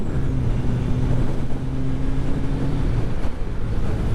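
A Kawasaki GPZ750 motorcycle racing at the NW200 road race in 2019, its engine droning steadily at close range under heavy wind rush, with no talk.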